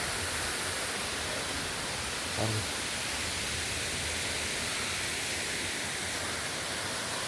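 Steady, dense rush of falling water, broad and constant, close by at Jalagamparai waterfall near Yelagiri, with no voices.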